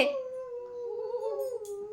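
A small child imitates a jackal's howl with one sustained, wavering, rising-and-falling vocal tone lasting about two seconds, close and clear in a quiet room.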